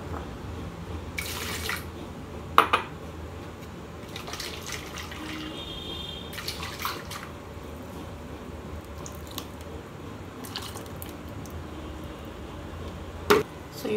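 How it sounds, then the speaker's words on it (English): Homemade coconut milk strained through a muslin cloth, with soft wet drips, squelches and trickles of liquid, plus a couple of sharper clicks, close and fairly quiet with no talking. "we are able to strain it through the muslin cloth"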